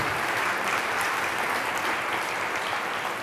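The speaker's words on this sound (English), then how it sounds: "A little applause for Rudy." Audience applauding at a Cradle to Cradle congress, a dense, even wash of clapping from a large crowd that holds steady for a few seconds.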